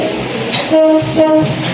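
Train on a railway line with gapped rails, two loud horn-like blasts over a continuous heavy rumble, close and dominant throughout.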